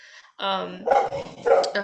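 A dog barks and yips in the background of an online conversation, several short, close barks in an uneven sequence mixed with a person's speech.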